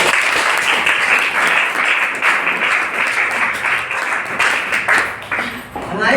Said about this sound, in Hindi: तो सबसे पहले चाय पेट के लिए ताली होनी चाहिए।